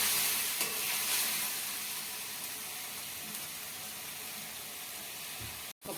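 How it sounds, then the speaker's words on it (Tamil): Tomatoes sautéing in a pan for mushroom gravy, a steady broadband sizzle with occasional stirring scrapes, close and continuous, briefly cutting out near the end. "தக்காளி சேர்த்துட்டு ஒரு 2 நிமிஷம் நல்லா வதக்கி விட்டுருங்க."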